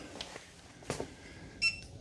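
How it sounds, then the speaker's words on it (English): A short, faint electronic beep from a NARWAL Freo Z Ultra robot vacuum and mop near the end, in a quiet room with low background hum. "This beeped again."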